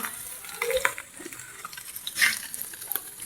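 Onions frying in a pan at home before garlic paste goes in, a soft steady sizzle with scattered stirring clicks and light scrapes, close and fairly quiet, with no voices.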